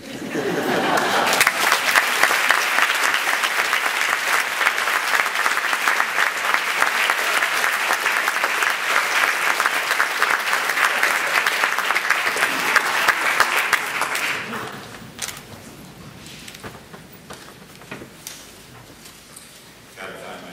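An audience at the Cleveland Art Prize ceremony honouring Mort Epstein gives steady, dense applause for about thirteen seconds before it fades away into scattered claps and room noise.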